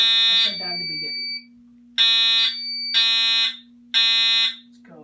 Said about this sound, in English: So you guys can hear the alarm a little better.